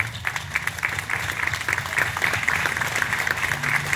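An audience claps steadily at the close of a talk and book signing, a dense, continuous round of applause from a room of people with no speech on top.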